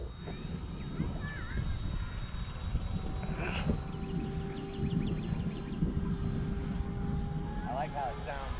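Habo 70mm EDF RC jet flying outdoors on its first flight, a steady whooshing ducted-fan whine heard at a distance with a faint rising pitch, under wind noise and some background chatter from people nearby.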